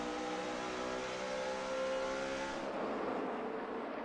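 NASCAR Sprint Cup stock cars racing at Darlington, a loud sustained engine roar with a pitch that slides downward as a car passes, thick and continuous with no talk.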